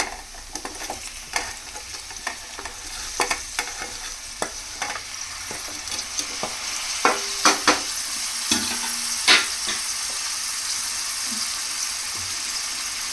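Bottle gourd pieces fry with ginger garlic paste in a pan, giving a steady close sizzle broken by scattered spoon clicks and stirring scrapes, with no talking.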